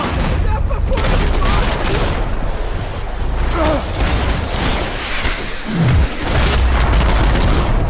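Gunfire from the action game Max Payne 3, a loud fusillade of shots and booming blasts running through the whole stretch, mixed with shouting voices and battle noise.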